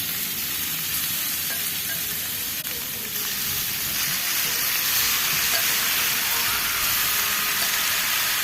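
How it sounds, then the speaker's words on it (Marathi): Grated carrot frying in ghee in a pan for carrot halwa, a steady, close sizzle and hiss running throughout with faint stirring, no talk. "गाजर घातल्यानंतर एक 10 मिनिटं हे चांगलं तुपामध्ये भाजून घ्यायचं।"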